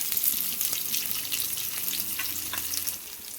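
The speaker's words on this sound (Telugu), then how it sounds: "ఇదిగోండి ఇప్పుడు ఉల్లిపాయ వేసేస్తున్నా" Chopped onion frying in a hot tempering of green chillies and spices, a loud continuous sizzle near the pan with spatula scrapes and stirring knocks, no speech.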